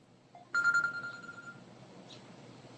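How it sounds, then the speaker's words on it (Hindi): A phone rings with an incoming call, a clear electronic tone that starts abruptly and then fades into a softer sustained ring, heard alone and close. "ये देखो भाई, फोन पे फोन आ रहे हैं अब मुझे"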